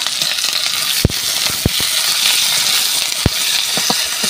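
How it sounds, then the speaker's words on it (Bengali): Onions frying in hot oil just used for frying potatoes, a steady broadband sizzle throughout with a few sharp pops and crackles, loud and close, no talking. "তো ওই তেলে এবার আমি দিয়ে দেবো পেঁয়াজ।"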